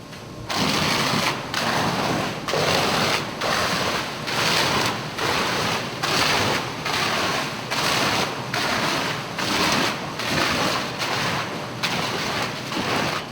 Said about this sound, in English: face the exposed side of that assembly towards a fire water hose stream application, the typical fire department hose stream at approximately 30 psi